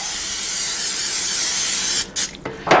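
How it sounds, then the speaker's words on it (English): Pam olive oil cooking spray hisses in one long steady burst of about two seconds, close and fairly loud, followed by a few shorter broken spurts. "I'm going to spray them with some Pam olive oil spray."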